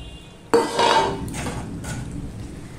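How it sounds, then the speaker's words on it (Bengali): A lid clanks down onto a cooking pot of meat with one sharp metallic hit, followed by a shorter rattle and softer clinks as it settles. The pot is quiet and close. "তাহলে আবারও আমি ঢাকা দিয়ে দিচ্ছি।"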